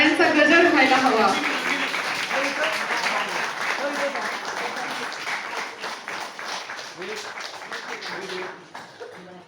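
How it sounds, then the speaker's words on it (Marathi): Audience applause at a Marathi book launch ceremony, sustained clapping that gradually thins out, with voices talking over it. "टाळ्यांचा गजर व्हायला हवा"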